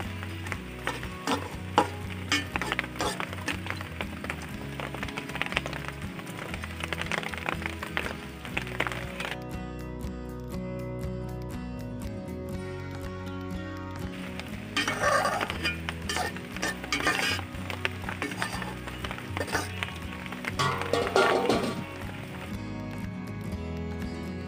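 A country-style rabbit roast cooks over high heat in a covered pan with a glass of water added. It sizzles softly, and intermittent scraping and utensil clatter come and go throughout. No one speaks.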